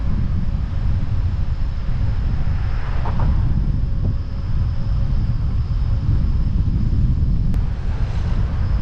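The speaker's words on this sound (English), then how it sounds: "it feels like about 10 mile an hour wind, headwind right now" Strong headwind buffeting the microphone while riding a scooter in the rain: a continuous loud low roaring rumble with no pauses, steady for the whole stretch.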